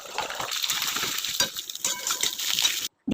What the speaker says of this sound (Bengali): কড়াইতে তেল গরম বসিয়ে দিয়েছি আর এখানে 2টো ডিম আগে ভেজে নেব